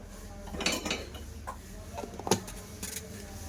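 A spoon clinks against a bowl while baking powder and baking soda go into mango cake batter, with a few sharp metallic taps and scrapes spread over a few seconds of quiet kitchen background.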